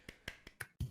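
A slow, sparse golf clap: five soft, separate claps spaced evenly a fifth of a second apart, close and quiet, with no talking.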